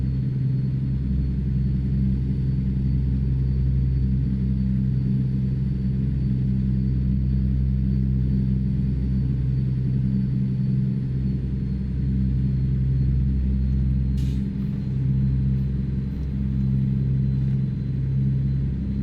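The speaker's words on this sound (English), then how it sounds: "It seems like there's a good flow of traffic" Steady, loud engine rumble from a truck hauling a boom lift toward Montana in American Truck Simulator, a continuous low drone with passing road traffic and a brief faint click partway through.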